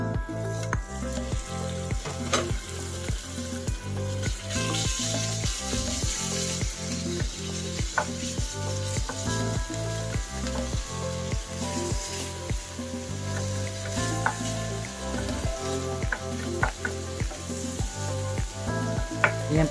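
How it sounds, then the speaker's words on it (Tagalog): Chicken breast sizzling and frying in hot olive oil in a pan while cooking pork, chicken and shrimp sisig, a steady close crackle with faint stirring scrapes throughout and no talking. "Ayan, mainit na siya mga suki. Pwede na natin ilagay yung ating chicken breast."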